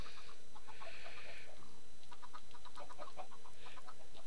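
Minecraft chickens on a chicken ranch cluck and chatter in short, repeated bursts over steady background noise, with no one speaking.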